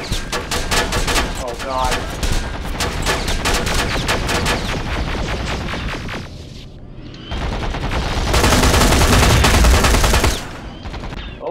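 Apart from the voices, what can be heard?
gunfire from the video game Terminator Resistance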